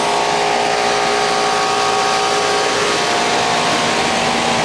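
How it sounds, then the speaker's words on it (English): A residential air conditioner's compressor runs steadily after being repaired from a fried transformer, giving a constant mechanical hum with a broad airy rush on top. The drone stays even and sustained throughout, with no voices. "Now the compressor's running."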